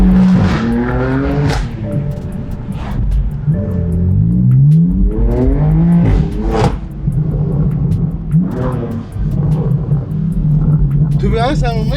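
A BMW M2 drives and accelerates, its engine rumbling and rising in pitch through several gear pulls, heard from inside the car with people talking over it.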